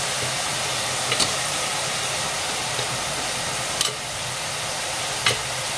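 Onions cook in a pan for mutton keema curry, giving a continuous even sizzling hiss with a few faint clicks of stirring.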